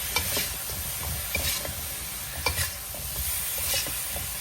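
Catfish is tossed and mixed with a sweet-salty sauce in a hot pan, a bright crackling sizzle broken by rhythmic scraping and stirring strokes every second or so, close and unvoiced.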